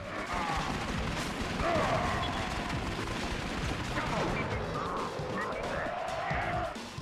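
Gunfire from the video game Twin Caliber, dense and continuous bursts of shots layered with game effects across the whole stretch, loud and busy with a voice partly mixed in.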